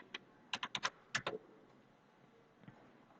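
Computer keyboard typed on to search a record in gold loan software: two quick clusters of crisp, close keystrokes, then near silence with one last faint tap.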